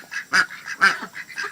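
Several ducks quack in short, honking bursts, two louder calls among quieter chatter, close by and alone without talk.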